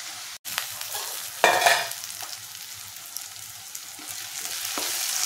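Onions sizzle in a pan for a dry prawn curry while a spatula stirs them, scraping and clattering in short bursts over a continuous frying hiss, with no voices.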